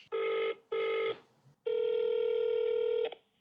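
A UK phone line ringing while calling Pimlico Plumbers, two short double-burst rings followed by one long sustained ring tone, clear and close with no talking.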